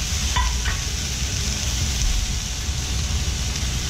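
Soba noodles and pancetta added to a pan on low heat for smoked pork soba, giving a steady dense sizzle with a couple of brief clinks near the start.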